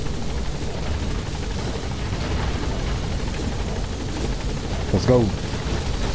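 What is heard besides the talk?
helicopter touching down in video game Metal Gear Solid 5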